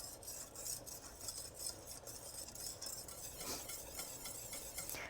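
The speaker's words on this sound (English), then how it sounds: "with your small whisk, just keep stirring and scratching that bottom, making sure you keep it all scraped clean" A small whisk stirs and scrapes the bottom of a pan of flour-thickened sauce for macaroni and cheese over medium-low heat, a soft continuous swishing with faint scratchy strokes, quiet and close.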